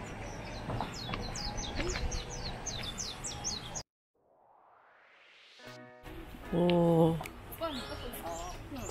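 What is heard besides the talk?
birds singing outdoors on Jeju island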